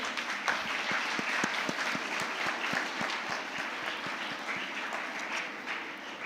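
Sustained applause from a committee audience at a Model UN valedictory function as a draft resolution passes unanimously, dense steady clapping throughout with sharper individual claps standing out.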